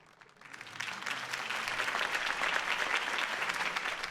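Crowd applause in a Batman video game, rising from quiet over the first half-second into a steady, full round of clapping from a large audience that holds at an even level to the end.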